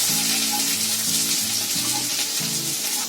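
Ground garlic and ginger frying in a few spoons of oil in a wok give off a steady, close sizzling hiss, with low humming tones running underneath.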